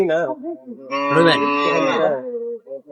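A cow moos loudly and close by in one long, drawn-out call, with shorter grunting sounds before and after; no talk.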